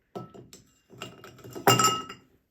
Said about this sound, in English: We're now going to put a couple of ice cubes into the mixing glass